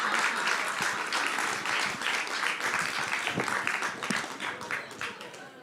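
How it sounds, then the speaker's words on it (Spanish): Sustained applause from an audience, dense steady clapping that gradually fades toward the end. "La gente te está aplaudiendo."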